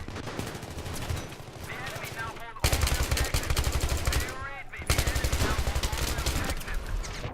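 Dense automatic gunfire in the video game Battlefield 3 at Ziba Tower, with loud rapid bursts in close quarters, sharp breaks between volleys, and someone talking over the shooting.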